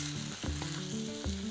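Ingredients for a pumpkin Alfredo sauce frying in a pan, a steady close sizzle broken by a few soft spatula knocks.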